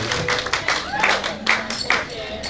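Wedding reception guests at Port Lympne Hotel & Reserve clap for the bridesmaids after a speech, a brief burst of scattered, fairly close handclaps with a murmur of voices underneath.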